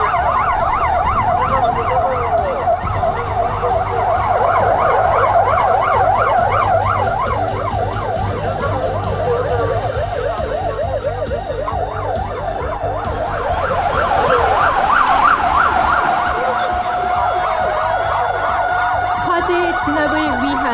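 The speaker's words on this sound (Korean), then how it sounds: "영덕소방서 선착대와 경찰 차량, 구급 차량이 신속하게 도착하고 있습니다" Fire engine, police car and ambulance sirens wail together at a disaster-response drill outside an arts centre plaza in Yeongdeok, several overlapping rising-and-falling tones loud and close throughout, with engine rumble underneath.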